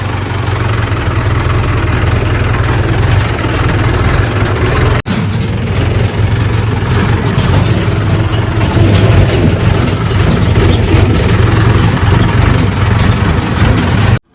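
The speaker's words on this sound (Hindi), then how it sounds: "फिर भागते हैं ट्रैक्टर लेके। लो जी स्टार्ट करते हैं" Tractor engine running loud and close at a steady idle for the whole stretch, with a deep, continuous rumble and one brief dip partway through, on a rain-soaked rural site near a brick kiln.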